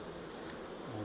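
Honey bees swarm and buzz at an opened hive during a May honey harvest near Samarkand, a dense, steady drone that fills the moment with no talk over it.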